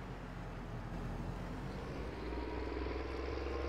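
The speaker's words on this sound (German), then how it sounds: "Gerade hat er wieder geschalten." A New Holland T6000 tractor in Farming Simulator 19 runs with a steady engine drone, and its tone shifts partway through as it changes gear. There is no talk.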